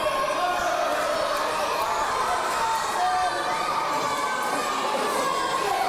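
Live wrestling crowd at an independent show shouting and cheering continuously, a dense wash of voices with occasional whoops and children's shrieks rising above the steady roar.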